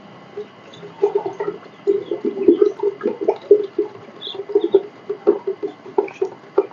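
Drinking water for chicks is stirred briskly by hand as medicine is mixed in, making close, rhythmic sloshing and gurgling splashes.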